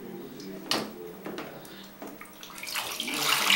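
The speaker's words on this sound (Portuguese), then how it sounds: "Joga a aguinha na barriga. Não, com o baldinho." Water splashes and pours from a small bucket during a young child's bath, in several short bursts that give way to a brighter rush of water near the end, while an adult talks quietly.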